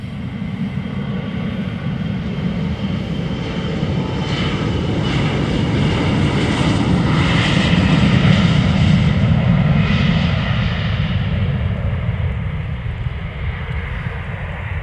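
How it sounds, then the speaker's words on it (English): KLM Embraer 175 jet departing Amsterdam Schiphol Airport for Birmingham, a continuous loud engine roar that swells toward the middle as it passes close by and then slowly recedes, with no talk. "KLM Embraer 175 off to Birmingham."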